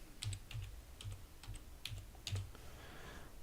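Computer keyboard keys tapped in short bursts while entering an Excel formula, a handful of quick close clicks with brief pauses between them, no talking.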